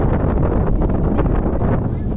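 Strong stormy wind at a riverbank in rural Bangladesh, during a fishing trip, batters the microphone with a loud, dense, rumbling roar that continues without a break.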